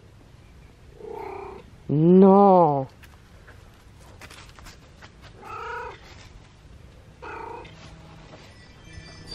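A cat meows loudly once, with softer meows before and after, while a person speaks briefly in the background.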